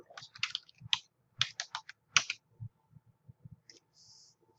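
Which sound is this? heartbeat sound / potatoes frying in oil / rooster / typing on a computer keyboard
typing on a computer keyboard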